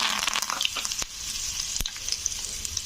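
Cumin, black mustard seeds and curry leaves fry in very hot oil with the heat switched off, giving a dense crackling sizzle with tiny popping seeds, close up, plus a couple of sharp utensil taps and no talking.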